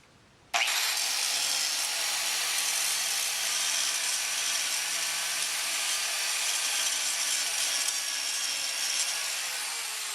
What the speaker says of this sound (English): You want to be very careful not to hit your studs, or else you'll have to put new ones in.